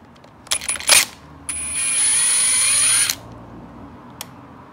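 A power ratchet spins a 10 mm bolt on a Honda 400EX oil screen, a brief whir followed by a longer steady buzzing run, then a lone click, close and loud.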